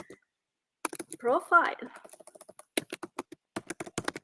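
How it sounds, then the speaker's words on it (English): Fingers tap on a computer keyboard in quick, irregular bursts of sharp clicks, close to the microphone, interrupted by a brief spoken word partway through. "typing"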